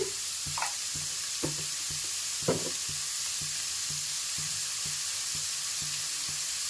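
Onions and green chillies salted and frying for onion kachori filling give a steady close sizzle with a soft regular pulsing hum and a few clicking stirs of a spoon.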